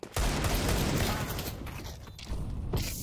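Rapid gunfire in the CS2 shooter game, a dense burst of shots filling nearly the whole stretch at close range with a brief dip before firing resumes.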